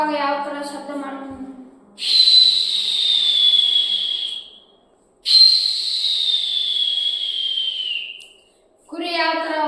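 A voice imitates an airplane in flight with two long, loud, hissing whistles that slowly fall in pitch. Short vocal sounds come before and after them, close to the listener.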